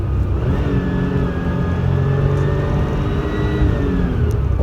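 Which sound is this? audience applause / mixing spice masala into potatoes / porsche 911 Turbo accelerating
porsche 911 Turbo accelerating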